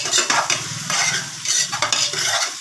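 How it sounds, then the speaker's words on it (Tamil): A spoon scrapes and stirs onions frying in a pan for mutton gravy, close and fairly loud, with repeated scraping strokes over a steady oily sizzle and no talk. "அப்பப்போக்கு லைட்டாக கிளறி விட்டுக்கோங்க."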